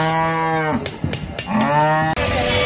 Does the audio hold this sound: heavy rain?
no